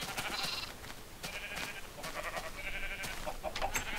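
Minecraft lambs bleat in several short, nasal, high-pitched cries spread across a few seconds, fairly close and clear, with no talking.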